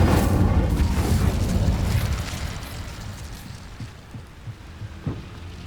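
Incendio fire spell cast in Hogwarts Legacy, a loud whooshing burst of flame that roars at the start and fades into a rumbling tail, followed by a few soft thuds, with no talk.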